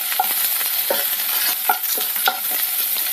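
Ivy gourd fries in a pan with a bright, crackling sizzle, broken by regular scraping stirs of a spatula, up close and with no voices.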